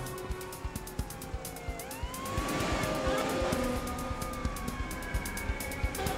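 A police siren wails in rising and falling sweeps as it approaches, swelling louder midway and holding steady, over a busy background of traffic and clatter.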